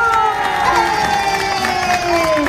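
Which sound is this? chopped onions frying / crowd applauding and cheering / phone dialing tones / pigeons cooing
crowd applauding and cheering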